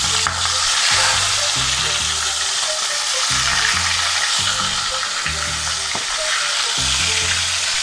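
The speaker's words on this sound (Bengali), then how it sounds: "এবার আমি মাছগুলো খুব ভালো করে ফ্রাই করে নেব।" Pieces of fish sizzle and spatter steadily in hot salted oil in a pan, a loud, continuous frying hiss with occasional stirring scrapes close by.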